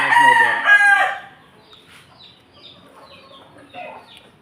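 A backyard rooster crows loudly and close in one strong call at the start, followed by softer clucking and low bird sounds, with a quiet voice briefly under it.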